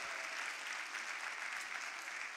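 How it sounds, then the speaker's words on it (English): Conference audience applauding speakers in a hall, a dense, even sheet of clapping heard from a distance, fairly faint and unbroken for the whole stretch with no voices over it. "let's clap for these courageous women."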